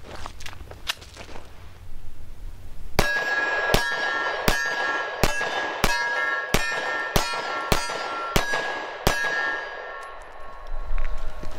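A compact pistol fitted with an extended magazine fires ten rounds at steel targets outdoors, giving evenly spaced loud close shots, each followed by a bright metallic ring that lingers between shots.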